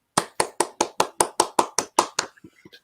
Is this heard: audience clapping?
yes